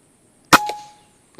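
Single sharp crack of a B-Zad Klein VR-1 air rifle firing its third shot, loud and close, with a short ringing tail and a faint metallic tick a moment later.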